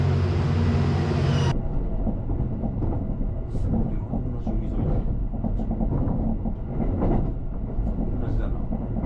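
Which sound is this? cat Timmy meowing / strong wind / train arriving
train arriving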